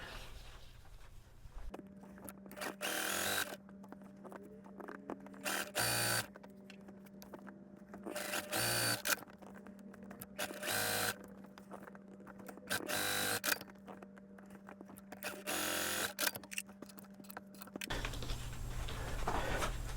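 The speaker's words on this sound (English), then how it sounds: "So now we'll take these over to the sewing machine." A sewing machine whirs in several bursts of stitching quilt pieces, each run starting and stopping with brief pauses, close and fairly loud, with no talking.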